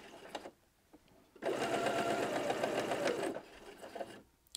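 A Pfaff Ambition sewing machine set to needle down hums through one continuous burst of stitching of about two seconds, loud and close, with quiet clicks just before and after.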